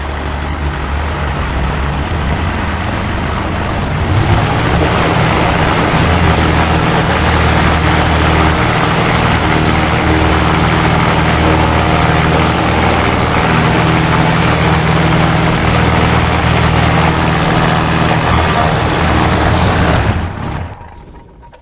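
A Cessna 172's engine and propeller run up to cruise RPM, a loud, close, steady drone that steps up in intensity a few seconds in, holds evenly, then cuts off abruptly at the end.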